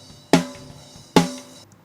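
A real snare drum blended with snare samples strikes twice, each hit sharp and bright with a short ringing decay, isolated and close.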